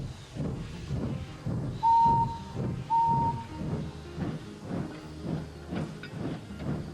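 Steam locomotive chuffing in a steady rhythm as it pulls away, with two short whistle blasts and hissing steam.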